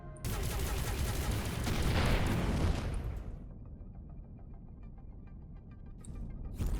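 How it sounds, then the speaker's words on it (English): Enemy ships in the space game Avorion loose a volley of slow missiles, a dense burst of firing and blasts over the first three seconds, then a lower rumbling hum with a brief loud burst near the end. "You're firing missiles."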